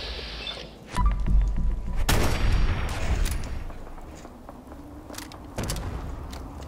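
Heavy-recoil gun firing in Fallout 4 while fighting feral ghouls, a few booming shots spaced a second or more apart over rumbling game ambience.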